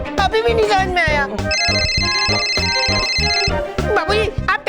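A voice mimics a telephone's ringing with a steady, high electronic-like trill held for a couple of seconds, surrounded by talking and background music.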